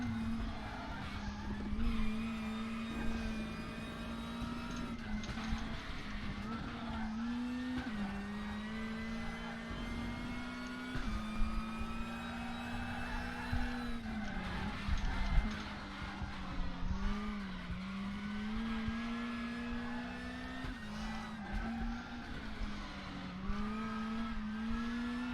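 Lada race car in the WTCC 13 racing game at Moscow Raceway, engine droning with shifting pitch and tyres squealing through corners, steady and moderately loud with no talking.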